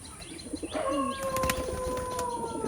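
An old-breed Khulna high-flying pigeon in its loft gives soft cooing calls, with a brief burst of wing flapping and thin bird whistles over a steady background hiss.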